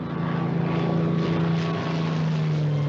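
A torpedo plane's propeller engine drones steadily and loudly as it approaches an aircraft carrier, a continuous humming roar with no break.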